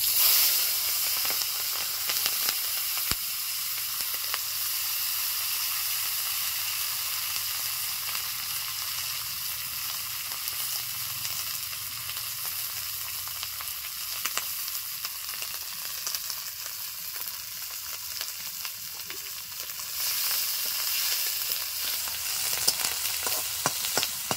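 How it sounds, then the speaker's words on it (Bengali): Spring onion stalks fry in plenty of oil left over from frying tengra fish, giving a steady, close sizzle and hiss that runs throughout with faint stirring and no voices. "মাছ ভাজার অনেকটাই তেল রয়েছে, পেঁয়াজ কলিগুলো দিয়ে দিচ্ছি।"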